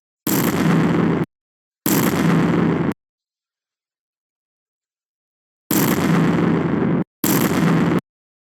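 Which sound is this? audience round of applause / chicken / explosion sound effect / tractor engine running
explosion sound effect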